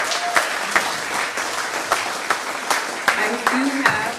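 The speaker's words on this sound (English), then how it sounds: "So let's go ahead and give Lucas another round of applause." Audience applause after a morning plenary talk at a conference, a steady round of clapping with a few sharp individual claps standing out and faint voices murmuring underneath.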